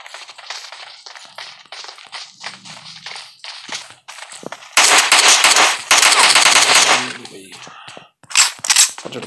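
Rapid bursts of automatic gunfire in the mobile battle royale game PUBG Mobile, crackling in loud clusters over intermittent game sounds and a talking voice.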